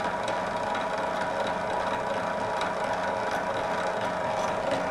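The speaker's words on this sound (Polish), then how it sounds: "Maszyna inaczej od razu startuje" A 100-year-old drill machine runs steadily after starting, making a continuous mechanical whir with a faint ticking, gear-like texture and no breaks.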